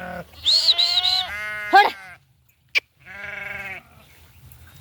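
Goats bleat loudly nearby on a hillside farm, two long wavering calls separated by a short sharp click, then quiet.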